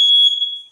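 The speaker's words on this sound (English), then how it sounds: "My fire alarm is beeping for no reason." Household smoke detector fire alarm during cooking, a single loud, piercing high-pitched beep that holds steady and then fades out, alone with no talking.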